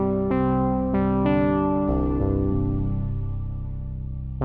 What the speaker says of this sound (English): Which is a very mellow polysynth patch.